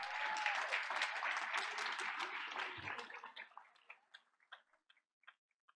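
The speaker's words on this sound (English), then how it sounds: "Let's give her a big round of applause." An audience at a school board of education meeting applauds with a dense burst of clapping that thins out after about three seconds into a few scattered, fading claps.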